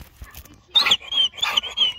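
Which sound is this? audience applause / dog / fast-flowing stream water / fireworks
dog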